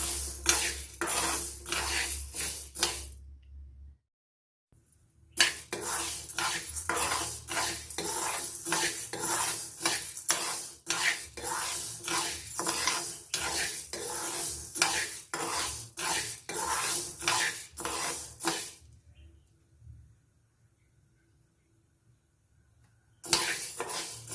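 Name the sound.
frying moong beans (green gram) in a pan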